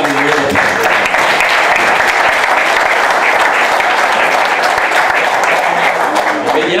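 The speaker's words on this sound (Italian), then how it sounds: "Io farei di nuovo un grande applauso a queste due meravigliose persone." Loud, dense applause from a crowd at an annual dinner of the ACL Brescia section, steady and sustained throughout without pause.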